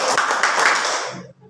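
Hand clapping from a classroom clapping game: quick, dense claps in a steady rhythm that fade near the end, with voices chanting along.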